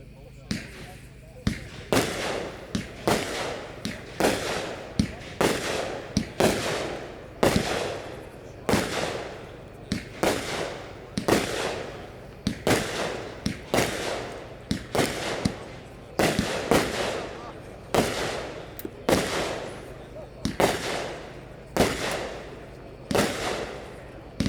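Red Rhino Tommy Girl 25-shot firework cake firing a rapid series of loud, sharp reports with hissing tails, evenly spaced across the whole stretch, close by and with nothing else heard over them.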